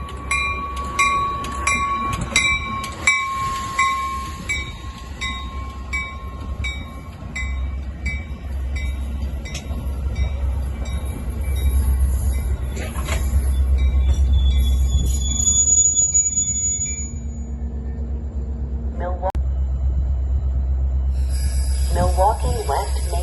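A Metra Milwaukee District West commuter train arrives at Roselle station, its low rumble swelling and fading on the platform, with high ringing tones and squeals over the rolling noise.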